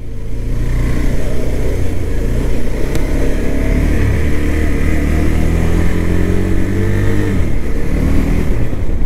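KTM RC 200 motorcycle, 2021 model, accelerating hard on a race track in Ahmedabad, the engine note loud and close, rising steadily in pitch through the gear, then dropping at a shift before climbing again.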